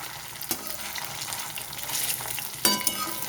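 Cabbage pakoras deep-frying in hot oil give a steady, close bubbling sizzle, with a couple of sharper spikes as pieces are turned over.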